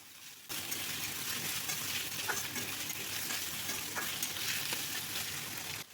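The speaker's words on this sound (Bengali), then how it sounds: "আলুটাকে এবার হাই ফ্লেমে কয়েক সেকেন্ড ভেজে নেব।" Finely diced potatoes frying in a pan over a high flame, a dense, steady sizzle close up, with the occasional faint clink of stirring.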